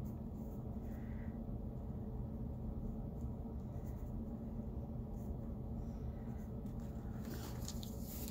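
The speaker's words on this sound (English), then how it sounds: "Right now I'm drawing what's called the contour lines." Pencil drawing contour lines on paper, a faint, steady scratching that continues for several seconds with quiet background hum.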